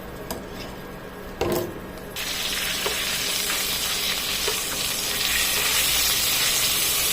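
Oil sizzles steadily in a pan, jumping to a louder, fuller frying hiss as ginger-garlic paste goes in after a short clatter, and continuing as a bright crackle with occasional stirring.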